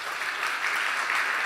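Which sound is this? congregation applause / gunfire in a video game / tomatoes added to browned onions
congregation applause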